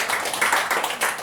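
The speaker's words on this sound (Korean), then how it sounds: "야, 한번 박수 보내겠습니다." A church congregation claps during a Sunday morning service, a brief burst of many hands clapping in uneven rhythm, moderately close, with no talking over it.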